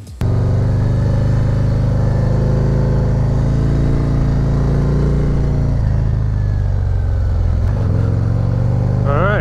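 Honda ST motorcycle being ridden, its engine droning loud and steady with a low rumble, the pitch shifting slightly as the rider changes speed, heard up close throughout.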